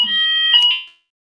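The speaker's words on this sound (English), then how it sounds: "I think that might Yeah. have been a fire alarm." A fire alarm gives one short, loud, shrill electronic tone that fades out within a second, heard alone with no talking.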